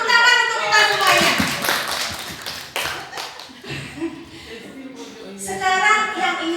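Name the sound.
audience applauding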